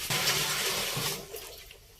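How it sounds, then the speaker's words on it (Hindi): Decomposed moringa leaf liquid poured into a container, a close, full gushing splash for about a second that thins into a trickle and fades. "ये 10 लीटर हमने जो मोरिंगा के पत्तों को डिकम्पोज करके तैयार किया है ये भी इसमें डालेंगे हम।"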